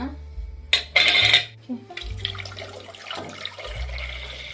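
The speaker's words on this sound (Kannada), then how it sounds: "ಫಸ್ಟು ಕಡಾಯಿ ಇಟ್ಟೀನಿ ಇದ್ರೊಳಗಡೆ ಒಂದು ಸ್ಟ್ಯಾಂಡ್ ಇಡೋಣ" Metal stand set down inside a kadai on the stove, followed by water poured in, producing a couple of sharp metallic clanks and scraping, then splashing and running water, close by with no talk.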